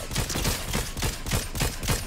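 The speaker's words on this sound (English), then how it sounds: "I'm getting shot at by more back here." Video game gunfire rattles in a rapid, rhythmic burst of repeated shots, steady and moderately loud, with no talking.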